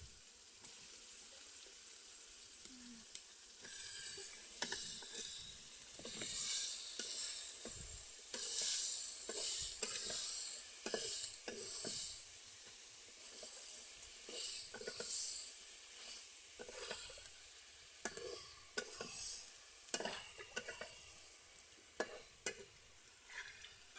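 Boiled liver sizzling in a pan of spice masala while being stirred, a loud hissing sizzle broken by repeated scraping strokes of the spoon, close up and continuous with no voices.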